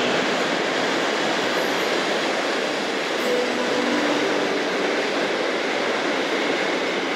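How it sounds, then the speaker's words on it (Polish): The Intercity Matejko passenger train from Szczecin to Przemyśl rolls past at a station, a loud, steady roar of wheels and carriages filling the whole stretch without letup. "To jest Intercity Matejko,"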